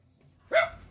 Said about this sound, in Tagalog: May magandang aso.